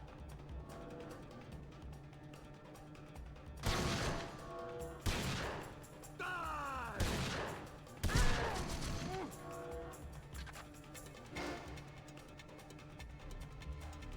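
Shotgun blasts in the PS2 game 007: Everything or Nothing (2004), fought at close quarters: four or five loud, separate booming shots a second or so apart over a steady game-music bed, with no voices.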